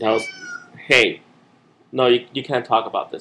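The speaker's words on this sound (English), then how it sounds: "That's my cat." A house cat meows loudly several times, close by, with a sharp cry near the start and a run of drawn-out meows toward the end, as someone talks between the calls.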